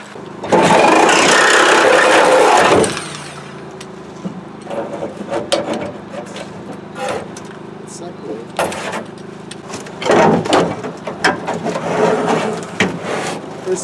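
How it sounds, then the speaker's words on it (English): A Sawzall reciprocating saw cuts metal on a 1973 Oldsmobile Cutlass 442 in a junkyard, a loud harsh buzzing burst at the start, then clanks and rattling with people talking over it. "We'll just run the Sawzall through there to get the rest."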